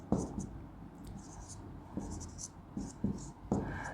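A pen writes by hand during a math lesson on sets, making short scratchy strokes and sharp taps in uneven bursts. The writing is close but quiet, with faint voice sounds in the background.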